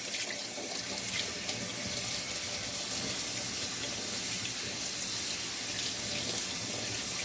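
Tap water runs in a steady, close splashing stream while sea moss is washed under it, a continuous rush with no talking.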